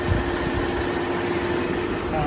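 A 3.6L V6 in a 2017 Jeep Grand Cherokee Trailhawk idles with a steady, close, low hum and faint whine, a voice talking over it.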